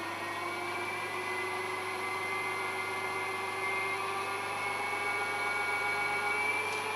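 A Peter Pugger clay processing machine runs with its vacuum on, giving a steady, even motor whine and hum with a constant broadband hiss, close and unchanging throughout, with no talk.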